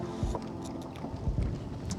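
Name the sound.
fishing boat moving on a windy lake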